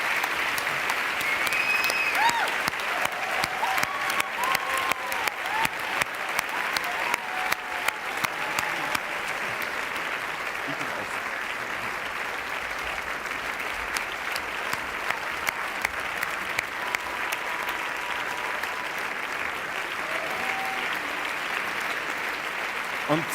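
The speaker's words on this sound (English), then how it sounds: "the remainder of you will give us a big round of applause." A big, sustained round of audience applause at a live EARTHtalks 2025 event, dense steady clapping from a large crowd lasting over twenty seconds with scattered sharper claps throughout.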